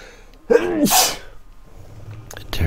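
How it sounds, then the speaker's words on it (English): A single loud, close human sneeze with a sharp intake and burst, followed by a quieter second onset near the end, recorded indoors during a farming game session. "Terribly sorry about my sneezing."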